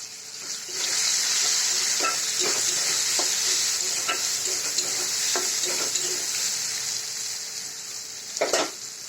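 Flattened rice with turmeric fries in a pan for chira polao, a steady close hiss of oil sizzling throughout, with a few soft stirring scrapes and a brief utensil clatter near the end.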